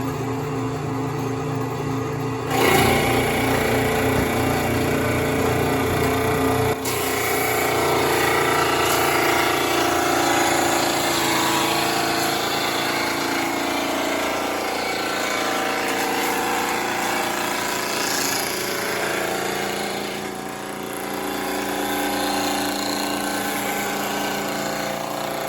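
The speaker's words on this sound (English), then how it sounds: "I always wait for the tick in that repulsion induction type of motor." An antique copying lathe driven by a repulsion induction motor turning a sledgehammer handle, a loud continuous mechanical drone and whir that holds steady throughout with a sharp shift in tone near the start.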